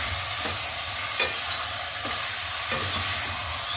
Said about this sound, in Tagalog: Igisa lang muna natin para masarap siya.